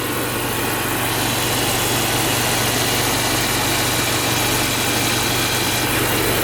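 A BMW X5 E70 SUV with 160,000 miles idles steadily with a low, even rumble and faint vibration, close by and unbroken, with no voices over it.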